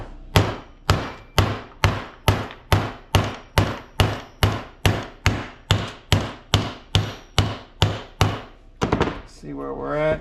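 A hammer taps a 7/8 socket down into the power steering gearbox of a 1982 Dodge Ram Charger, about seventeen sharp, evenly spaced metallic blows close up, then a brief burst of faint talk at the end.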